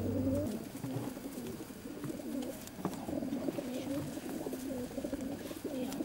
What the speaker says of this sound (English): We're going to feed the pigeons now